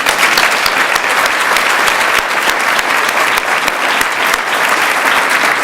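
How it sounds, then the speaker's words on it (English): Loud, sustained applause fills the Berry Auditorium in the Offutt School of Business, a dense, steady wash of many hands clapping at once with no pauses. "Please join me in a round of applause for my father."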